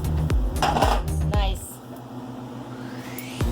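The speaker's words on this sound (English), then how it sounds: "I'm gonna go ahead and put it in a bowl right here" A cooked egg slid into a bowl with clinks and scrapes of a utensil against cookware, a couple of sharp ringing knocks early on, then a softer settling with a fading ringing tail.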